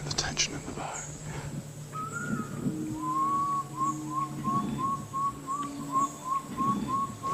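A man whistles to imitate a water bird while fishing for wolffish in a jungle river, giving a short sequence of high, wavering piping whistles repeated in a steady pulse, heard close over soft background rustling and murmured voices.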